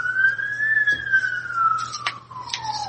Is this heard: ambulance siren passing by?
yes